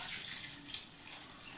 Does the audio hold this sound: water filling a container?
yes